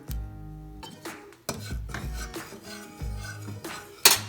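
A utensil scrapes and clanks against a pot while butter is stirred into creamy cheese grits, in several short bursts of rubbing and tapping, close up with no talking.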